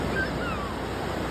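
Ocean waves breaking at the beach in Baler, a steady wash of surf noise with wind rumble and faint voices in the background.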